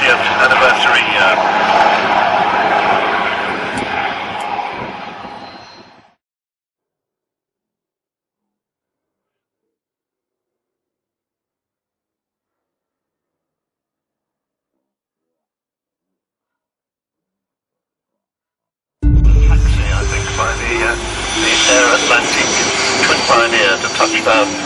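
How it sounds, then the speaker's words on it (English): A Mark 19 Spitfire's piston engine roars loudly as the aircraft flies slowly just a few feet above the runway at an air show. Two long stretches of sound are separated by a silent gap. "It's flying very slowly, just about a few feet above the runway"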